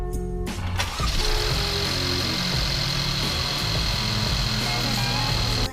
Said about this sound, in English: Now start up the car and make sure there is no leaks.